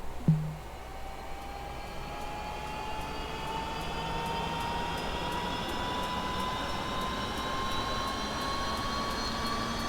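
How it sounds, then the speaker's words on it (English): The turbine of a UH-1 Huey helicopter in DCS World spools up steadily, a rising whine that climbs in pitch over a low hum, after a brief click at the start; no talking. "the turbine's coming up very nicely"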